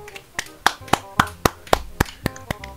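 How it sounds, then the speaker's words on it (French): Applause in a live stream: about a dozen sharp, close hand claps in a steady, even rhythm. "Applaudissez Raptor"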